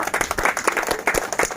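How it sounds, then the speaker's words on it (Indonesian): An audience at a public gathering of marginalized community members claps briefly, a short burst of fairly loud, uneven applause with individual hand claps standing out. "tepuk tangan dulu untuk kita semua."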